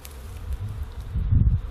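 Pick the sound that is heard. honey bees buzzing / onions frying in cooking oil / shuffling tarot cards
honey bees buzzing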